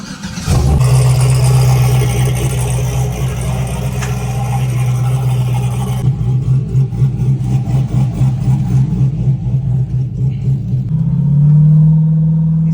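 A turbocharged LS V8 in a Camaro cruising at partial throttle, a loud, close, steady engine drone heard from inside the car, shifting in tone partway through and settling near the end.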